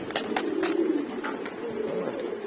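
Adult pigeons, including large Maltese birds kept for sale, coo with repeated low throaty calls. The cooing is close and steady, with sharp flutters or knocks scattered through it.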